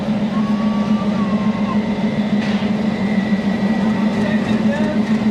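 A Repalle–Secunderabad passenger train hauled by twin diesel locomotives arrives at platform 6, giving a loud steady low diesel drone with faint squeals of wheels on rails.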